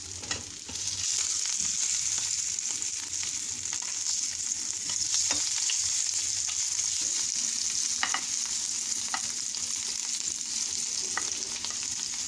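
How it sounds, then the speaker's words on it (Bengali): Bitter gourd (karela) slices fry covered in a pan over very low gas, giving a steady, close, hissing sizzle with faint stirring clicks and scrapes throughout. "একদম কম গ্যাসে আমি ঢেকে ঢেকে করলাগুলো ভেজে নেব"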